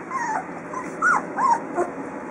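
A puppy whimpering in a series of high, wavering whines and short yips, close and fairly loud.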